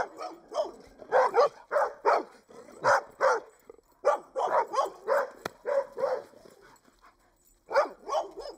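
A dog on a golf course barks repeatedly in quick, loud clusters close by, with short pauses between bursts.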